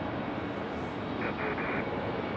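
A JetBlue airliner moves at Raleigh-Durham International Airport, a steady broad engine rumble heard from a distance, with a brief tonal whine rising and stepping in the middle and no talk over it.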